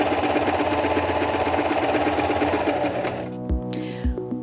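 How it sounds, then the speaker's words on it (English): Singer M2100 sewing machine running a straight stitch on fabric, rapid steady mechanical whirring with a quick rhythmic needle beat, close and clear, stopping after about three seconds and followed by a few soft clicks. "With the machine set on straight stitch, place your fabric under the presser foot, lower the presser foot, then step on the foot control to start sewing"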